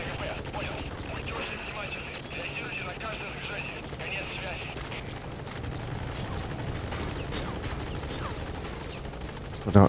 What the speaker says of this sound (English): I don't know who's shooting at my chopper.